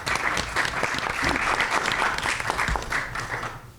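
Audience clapping at a school committee meeting, a brisk burst of hands from a modest indoor crowd that holds steady and then fades out near the end.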